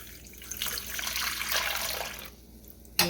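Warm water for homemade bread dough pours in a steady splashing stream for a couple of seconds, then stops, ending with a short sharp knock.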